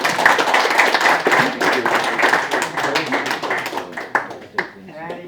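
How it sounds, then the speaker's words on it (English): A small audience at a pitch session claps for a presenter, the clapping quick and fairly close, thinning out toward the end, with voices mixed in. "You can get a round of applause."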